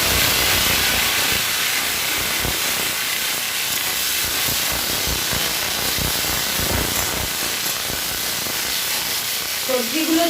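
Vegetables hit hot oil tempered with radhuni and black mustard seeds for a Bengali pui shak chorchori, giving a loud, steady sizzle and hiss close by, with crackles throughout.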